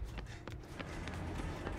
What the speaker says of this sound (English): I hear footsteps in here.